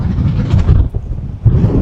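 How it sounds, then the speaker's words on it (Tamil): Strong coastal wind gusts through mangrove trees as a loud, close, low rushing roar with buffeting on the microphone, dipping briefly before surging again. "காற்று கடுமையாக வீசும்போது இந்த மரத்துல இருந்து நல்ல சத்தம் வந்து கொண்டிருக்கு பாருங்க"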